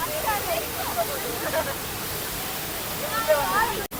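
Surmane waterfall rushes in a steady, loud broadband roar of falling water, with faint voices in the background and a sharp click near the end.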